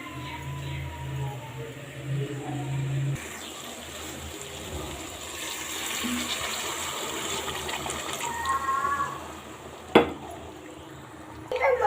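Water gushes steadily into a metal cooking pot of rice with a soft rushing splash, amid faint kitchen clatter and a sharp clink near the end.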